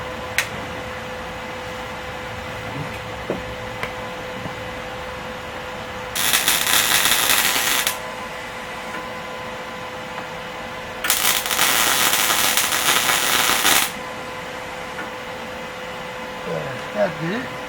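Blow gun air bursts used to cool fresh welds on the roof seam of a 1976 Dodge Charger in a workshop: two loud, steady hissing blasts, each lasting about two to three seconds, set against a quiet background hum.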